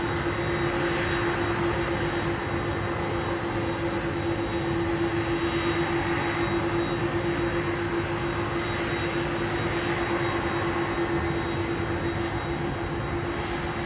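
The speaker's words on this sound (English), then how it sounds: "we had a go around. Sudden surge of the engines here. Listen to this beautiful airliner." Jet engines of an airliner surging during a go-around at London Heathrow Airport, a steady, loud, continuous roar with a sustained tonal whine running throughout, heard alone without speech.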